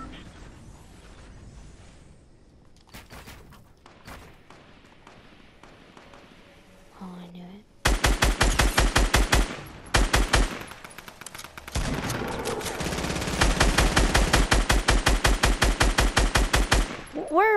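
Loud bursts of automatic gunfire crack out in a video game after a quieter opening, with sharp, rapid shots in quick clusters and brief pauses between them.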